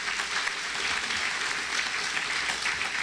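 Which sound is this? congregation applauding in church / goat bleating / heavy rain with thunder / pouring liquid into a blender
congregation applauding in church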